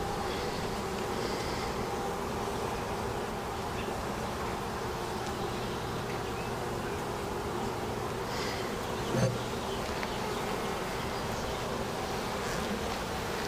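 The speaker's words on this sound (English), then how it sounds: "Shake these bees into here." Honey bees buzz steadily around a hive frame during beekeeping, a dense continuous drone of many insects close by, with one brief knock partway through.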